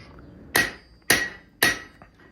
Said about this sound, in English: for me setting these rivets in tight spots for like end scrolls